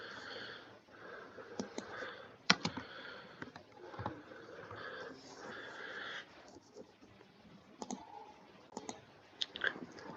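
Code being typed on a computer keyboard: quiet, irregular key clicks in short bursts with brief pauses, close and soft, with a few sharper taps standing out.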